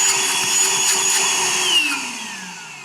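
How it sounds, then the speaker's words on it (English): A small portable vacuum cleaner running on mode 2 whirs loudly with a steady high-pitched motor whine, then its pitch drops as it powers down near the end. "I think for a portable vacuum cleaner, it has fantastic suction."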